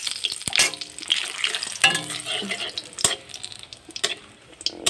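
Dried red chillies and bay leaves sizzle in very hot oil in a wok, a steady crackling hiss broken by sharp spits and clinks from stirring.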